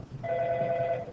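Telephone ringing, a single steady electronic tone lasting about a second, moderately loud over a faint background.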